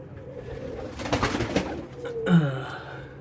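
Pigeons in a breeding loft with young chicks and eggs give soft, throaty coos, rising and falling in a few close, rolling phrases over a low background hum.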